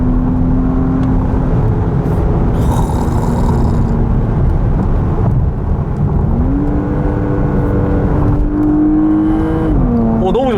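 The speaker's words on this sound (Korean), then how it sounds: "이런 소리 진짜 파나메라에서 이렇게 아주 거칠면서도 아주 묘한 이 바리톤 사운드를 듣는다는 것" A Porsche Panamera 4 Executive long-wheelbase sedan revs and accelerates with a rough baritone engine note, loud and steady, its pitch rising in stages over about ten seconds.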